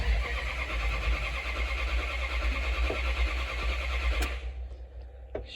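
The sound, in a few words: car engine cranking but failing to start after two months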